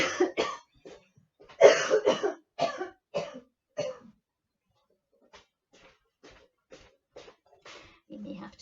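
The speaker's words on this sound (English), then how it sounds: "I think I've soothed my tickly cough" A tickly cough comes in a short cluster of dry, scratchy bursts with a throat clear, close and fairly loud, followed by quieter, fainter coughs and breaths after a brief pause.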